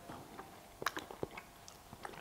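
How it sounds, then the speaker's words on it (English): Close, intimate chewing of a high-protein vegan meal picked up by a microphone near the throat, with irregular crunchy bites and wet mastication clicks, no talking. "this microphone is quite near my throat, which means you may experience some slightly disturbing chewing sounds"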